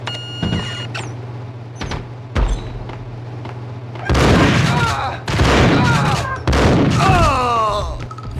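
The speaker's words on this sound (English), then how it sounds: "he took 3 shotgun pumps" Shotgun blasts in the video game Max Payne, several loud booming shots in the second half, preceded by scattered fainter hits over a steady low hum.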